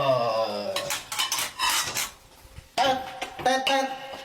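Two plates clatter and clink against cutlery in a home kitchen while rujak is being prepared, sharp bursts of clattering in two clusters, fairly loud and close with some faint background voices.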